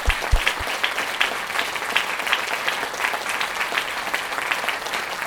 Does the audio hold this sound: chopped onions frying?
no